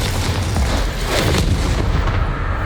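Confringo fire-spell blasts in the video game Hogwarts Legacy come as loud, booming explosions that roll into one another, a continuous rumbling barrage with no gaps and no voices.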